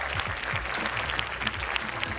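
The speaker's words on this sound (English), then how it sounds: "One more big round of applause for her." An audience at a televised national STEM championship claps continuously in a dense, even burst of applause, with no voices standing out.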